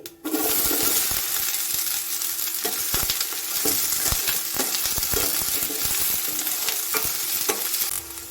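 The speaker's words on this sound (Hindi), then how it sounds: "अब मैं इसमें 1 बड़ा प्याज कटा हुआ डालूंगी" Chopped onion sizzles and crackles in a hot pan with oil, with scraping stirs of a spoon breaking through the steady frying hiss, close and continuous, starting abruptly after a brief quiet moment.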